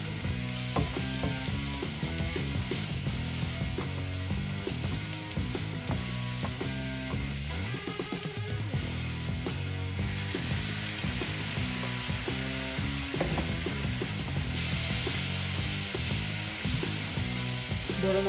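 Katla fish sautéing in hot oil with ginger-garlic paste and spices gives a constant, close sizzle and hiss, with occasional stirring scrapes and a faint tonal hum running underneath.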